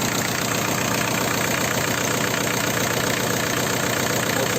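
A Ford Escort 1.8 diesel idles on its first start after a cylinder head and timing belt repair, a steady close clattering rumble running evenly throughout with no voices.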